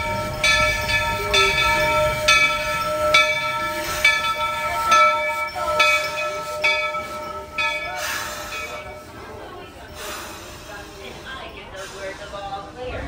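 A Magic Kingdom railroad train at Walt Disney World rolls along toward Frontierland, with bell-like ringing tones over a steady rumble and crowd noise, and people talking nearby.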